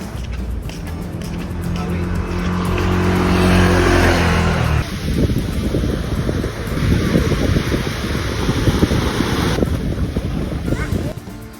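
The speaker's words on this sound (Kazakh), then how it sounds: "Оң жақпен жүреді машиналар." Cars pass on a road in Phuket, with a nearby engine rumble that fades after a few seconds into rushing wind noise and traffic, and a voice speaking over it.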